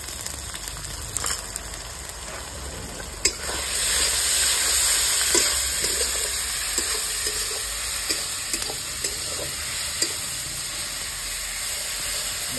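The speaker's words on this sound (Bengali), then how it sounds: "এবার দিয়ে দেবো আদা রসুনের পেস্ট," Ginger-garlic paste sizzling in a pan with fried onions, a steady bright crackle and hiss with occasional stirring scrapes, no voices.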